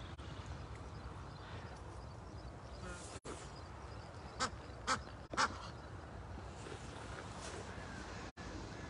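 Ducks and geese at Mount Arbel by the Sea of Galilee, a few short quacks rising over a steady outdoor hiss with buzzing insects, fairly faint and distant.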